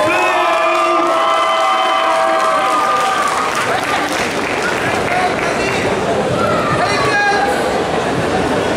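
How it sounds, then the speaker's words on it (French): A concert audience at a Fréjus convention show erupts in loud, close applause and cheering, with shouts and whistles over dense clapping and a voice briefly calling out early on. "J'espère que vous allez nous faire un tonnerre d'applaudissements, Mister Oshi et ses danseuses."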